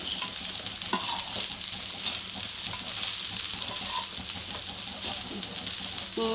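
Roasted peanuts being stirred into mango pulihora in a pan, a dense steady crackle and rustle of tossed rice with occasional clinks of the spoon, moderately loud and free of speech.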